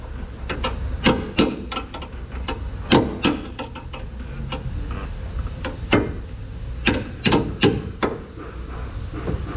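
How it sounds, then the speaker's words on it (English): A pry bar worked back and forth to wiggle something loose, giving sharp metallic clicks and knocks in uneven bursts at close range, with pauses between the clusters. "Insertable pry bar. We're just going to wiggle that around till it comes out."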